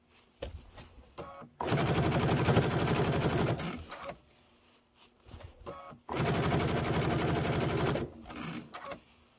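A sewing machine stitches a quilt top in two long, steady bursts of rapid whirring, each lasting a couple of seconds, with quieter handling sounds and pauses between and around them.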